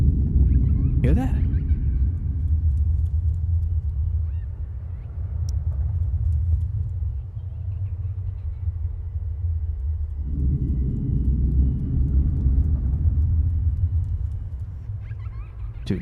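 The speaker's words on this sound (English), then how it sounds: "Dude, it's gotta be just the storm making sounds." A low, continuous storm rumble rolls through the DayZ survival game, a dense, steady roar with a sharper crack near the start and a slight lift partway through.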